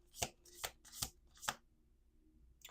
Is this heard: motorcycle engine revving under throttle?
no